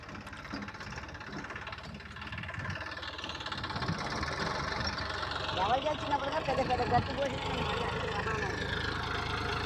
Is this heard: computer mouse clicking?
no